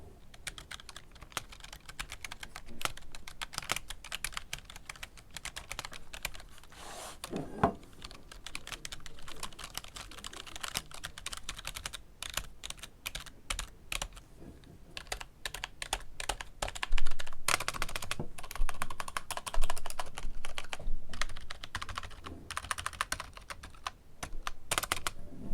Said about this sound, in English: So let's go and listen to membrane keyboard.